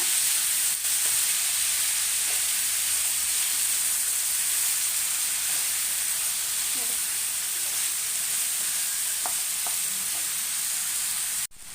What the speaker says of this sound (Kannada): ಮೊಸರನ್ನ ಒಂದು ಒಂಚೂರು ಫ್ರೈ ಮಾಡ್ತೀನಿ